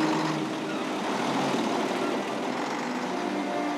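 A heavy truck grinds through a huge hole on a rough Bolivian mountain road, its engine a steady, loud, close rumble with body noise throughout and no voices.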